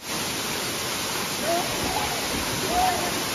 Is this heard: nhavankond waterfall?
yes